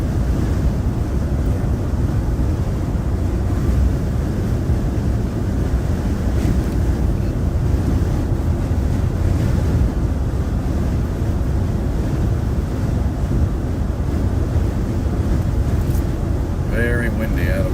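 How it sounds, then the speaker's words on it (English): Strong southerly wind buffets the microphone on the Great Plains during a hail storm chase, a loud, steady roaring rumble that fills the whole stretch without easing. "Very windy out of the south."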